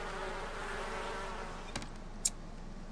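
Bees buzz in a steady, soft drone in a Sims life-simulation game, with a couple of brief sharp game sound effects near the end.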